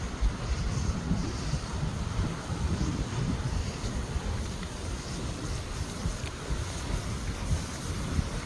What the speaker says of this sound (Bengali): সাগরের ঢেউ